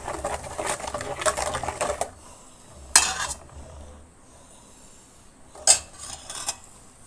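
A utensil stirs okra buttermilk curry in a pot, giving a run of close clinks and scrapes against the metal, then a few sharp isolated knocks with quiet pauses between.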